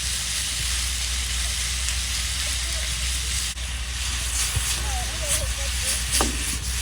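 Ethiopian tibs meat fries in a small pan with a steady, loud sizzling hiss throughout, a few sharper crackles and spits near the end.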